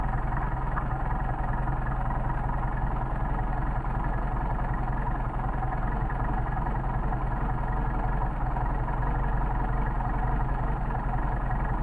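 A Mercedes 190SL with Solex carburetors idles on a cold 29ºF day, a steady low engine drone with an even, unbroken hum throughout, close and fairly loud, with no voices.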